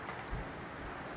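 Heavy, steady downpour in Sanasar, a hill village, hissing evenly across the whole stretch with a low rumble underneath, dense and continuous with no voices.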